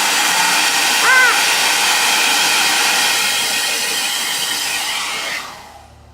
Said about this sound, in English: we're gonna take that off and we're gonna blow dry that